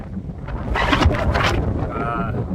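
Strong, gusty wind on a mountain top at Webster Mountain Cliffs on the Appalachian Trail buffets the microphone in loud broadband roaring bursts, with a faint voice-like tone drifting through near the end.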